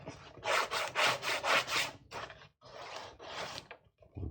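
Modroc plaster bandage is rubbed by hand to smooth a seam, making a rhythmic series of close, dry scraping strokes, about six quick passes followed by a few slower ones.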